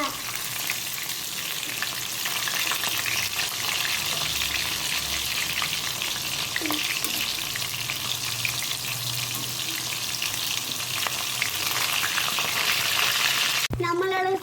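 Pieces of fish 65 fry in hot oil, a loud continuous sizzle and crackle close up, stirred now and then, with a brief clatter at the very end.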